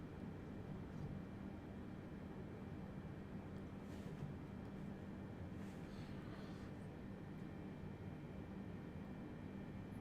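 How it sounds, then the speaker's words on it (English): A large cargo airplane taxis at an airport ahead of departure, a steady broadband engine rumble and hiss droning continuously at moderate distance with no pauses. "Big beast of an airplane."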